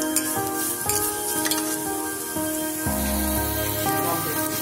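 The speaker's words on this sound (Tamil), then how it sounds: "இப்போ பாருங்கள், நம்ம கடாயில் ஆனியனை போட்டாச்சு. இதை ஃப்ரை பண்ணி எடுக்க போகிறோம்." Onions frying in oil in a kadai, a dense steady sizzle with scraping stir strokes and clinks of a spatula against the pan, close and continuous throughout.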